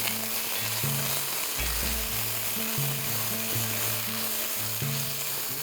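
Ginger paste and garlic paste sauté with fried onions in a pan, a constant dense sizzle with rhythmic scraping thuds from stirring, close and steady.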